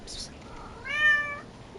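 A single clear cat meow, nearby and fairly loud, rises and falls for about half a second after a brief hiss of noise, with a quiet background.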